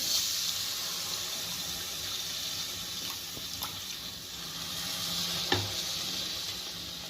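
Steady sizzling in a hot pan as milk goes in, with soft stirring scrapes and a brief clink partway through.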